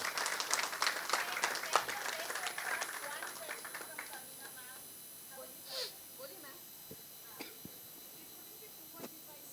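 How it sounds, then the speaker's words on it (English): Audience applause at a Hindi film trailer launch for Razakar: dense clapping for about four seconds, then thinning to a few scattered claps and a faint murmur. "Can we have a humongous round of applause, please?"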